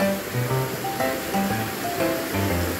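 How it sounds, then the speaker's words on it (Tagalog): Mananap Falls, reached on a mountain hike, sends out a constant rushing roar of water. Faint tonal sounds drift over the steady wash. "Yung tubig na naririnig natin."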